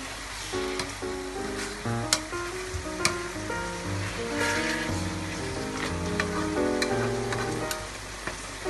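A potato and mutton curry made with coriander seeds is stirred in a pot, giving a soft, steady scrape-and-simmer texture with a few sharp knocks of the spoon against the pot, all under continuous background music.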